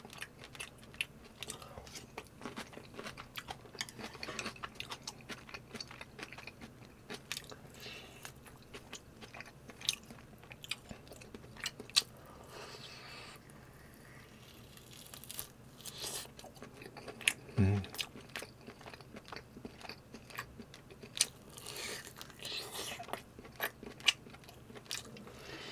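Someone gnaws beef rib meat off the bone from a bowl of galbitang, close-miked soft chewing and tearing with scattered sharp clicks and crunchy bites over a quiet background, no speech.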